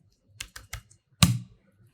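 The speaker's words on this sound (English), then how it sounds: "Okay, so I'm typing a button." A handful of crisp keystrokes on a computer keyboard while text is entered in Figma for UI design: three quick clicks, a short pause, then one louder key press, close and alone.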